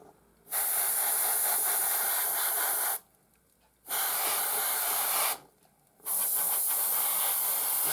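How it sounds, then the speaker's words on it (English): Airbrush spraying brown paint evenly over a plastic model for a rust-coloured base, three long steady hissing bursts of about two to three seconds each, separated by brief quiet gaps, close and fairly loud. "going over it fairly evenly with the airbrush"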